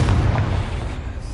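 A Confringo spell explosion in Hogwarts Legacy, one deep, loud boom with heavy low rumble that fades slowly over a second or so.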